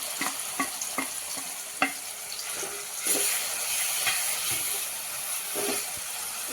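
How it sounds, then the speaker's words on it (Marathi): Ground masala paste frying in hot oil for green-chili urad dal amti, giving a steady sizzle broken by repeated scraping strokes of a spoon against the pan. "चांगलं तेलामध्ये भाजून घेऊया।"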